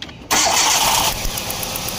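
A 2009 Hyundai Accent with a 1.6L engine and a misfire fault is started: the starter catches abruptly and the engine settles into a loud, close, steady idle.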